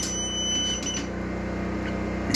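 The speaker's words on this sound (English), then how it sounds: "Sorry for all the beeps." A high electronic beep tone from an off-grid solar power system sounds for about a second, then cuts off, leaving a steady electrical hum behind it.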